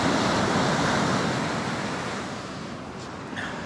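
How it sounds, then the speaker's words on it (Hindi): Monsoon sea waves crash against large rocks near a lighthouse on the coast of Karnataka, a loud, broad roar of surf that slowly fades. "बड़े बड़े पत्थर और बीच में उनसे टकराती हुई वेव्स"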